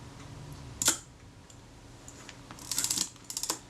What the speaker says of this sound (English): I'm squeezing the shutter release very slowly.